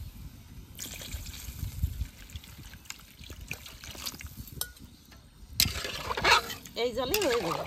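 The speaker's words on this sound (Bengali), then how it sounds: "আলু ভালো করে ভেজে নিয়েছি, এবার জল দিয়ে দেবো" Water poured into a pan of fried potatoes being cooked with hilsa curry, a trickling splash that swells near the end, with kitchen clatter and a voice talking over the first part.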